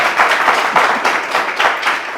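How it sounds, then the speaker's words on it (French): An audience at a political interview event applauds, a dense, steady wash of many hands clapping at once that holds loud throughout the short stretch. "Merci, on applaudit."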